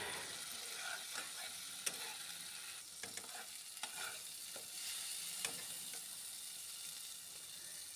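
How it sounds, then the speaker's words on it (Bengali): Rohu fish in mustard masala being stir-fried with water in a pan, a faint continuous sizzle with soft stirring scrapes and small clicks, fairly quiet and steady. "জলটা দিয়ে ভালোভাবে কষিয়ে নেব"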